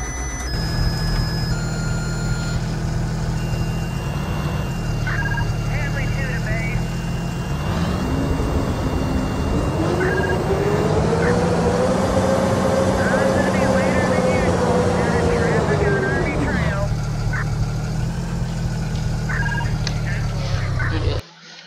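Bus 732 engine in the video game Rigs of Rods, a continuous low diesel drone that climbs in pitch as it revs up midway, holds, then drops back to idle, with someone talking over it.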